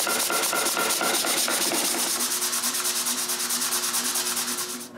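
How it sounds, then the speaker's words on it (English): A wooden box is sanded by hand in a workshop with quick, steady rubbing strokes, close and continuous, while a low machine hum runs underneath. "I sand here and there."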